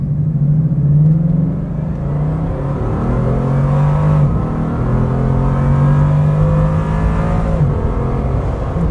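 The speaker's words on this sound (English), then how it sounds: "just kind of just hit the accelerator? Yep, just kind of like feed it in, just give it like that kind of application" A Bugatti Chiron accelerates from inside the cabin, its engine droning loud and steady with rising and falling tones as the throttle is fed in, a smooth continuous rumble with no talking.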